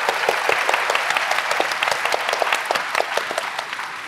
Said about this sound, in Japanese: 拍手しますか。